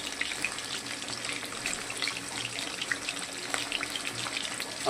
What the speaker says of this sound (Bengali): দেখুন বন্ধুরা, আমাদের ইলিশ মাছটা ভাজা হচ্ছে।